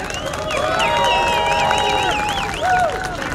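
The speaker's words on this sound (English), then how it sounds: "I also want to give a very quick round of applause to all of our speakers, to the organizers, and to all of you for coming" Outdoor rally crowd at the Lincoln Memorial applauding and cheering its speakers and organizers, a steady wash of clapping mixed with scattered voices and whistles, fairly loud and continuous.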